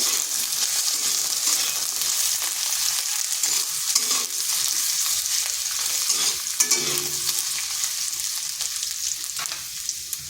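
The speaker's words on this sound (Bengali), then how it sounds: "আলুগুলো ভাজা হয়ে গেছে" Potatoes fry in a covered pan, giving a steady, hissing sizzle with occasional stirring scrapes throughout and no talking.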